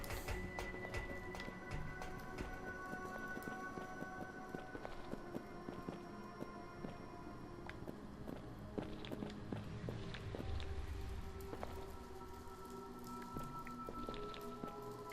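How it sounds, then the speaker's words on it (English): Characters' footsteps in the video game Resident Evil Zero, with a crawling, spider-like skitter on each step: faint, rapid ticking and tapping that repeats irregularly over a soft, steady game ambience. "It sounds like it's only happening when they step, but I can't be sure. It just sounds like a spider"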